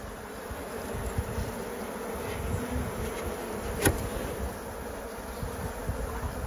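Honeybees buzz steadily around an open hive during a frame inspection, a dense continuous drone close by with a single brief click partway through and no talk.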